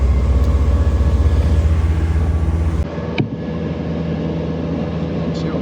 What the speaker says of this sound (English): with the engine trimmed fully down, we'll inch the speed up a little bit at a time until she gets onto the plane